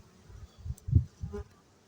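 Honey bees buzz at an opened hive, with a few close humming swells rising and falling over two seconds and no talk.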